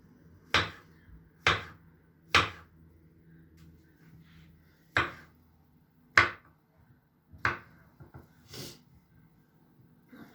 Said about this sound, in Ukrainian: Печериці нарізаємо соломкою.